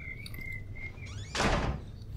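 A door slams shut in the video game Outlast: one sharp, loud bang that rings out briefly over a low, steady ambient hum, with a faint high tone before it.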